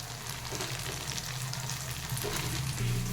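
Tomato and green chillies sizzle steadily in hot oil in a pan over a low hum, with a louder burst of frying near the end as the ingredients settle in.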